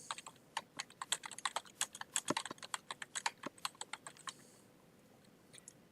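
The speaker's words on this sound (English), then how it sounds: "Well, I'm not so good at typing." Fingers type on a computer keyboard in quick uneven bursts of crisp clicks, close and clear, tapering off into a few isolated keystrokes.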